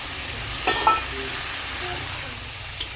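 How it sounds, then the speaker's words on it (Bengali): Food stirred and fried in a pan, a steady soft sizzle with a few brief scraping clinks of a utensil against the pan. "স্বাদ মতো ভালো করে এটাকে নেড়ে নেবো"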